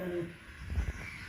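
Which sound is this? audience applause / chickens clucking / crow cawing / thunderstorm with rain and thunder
crow cawing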